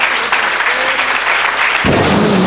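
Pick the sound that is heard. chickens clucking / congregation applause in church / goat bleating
congregation applause in church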